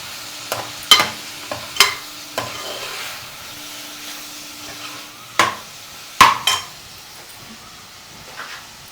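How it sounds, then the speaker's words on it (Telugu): Goat tripe (boti) fries in a pan with a steady low sizzle, broken by sharp close clinks and scrapes of a utensil stirring at irregular intervals. "బోటి అయితే బాగా వేగిపోయిందండి బాగా"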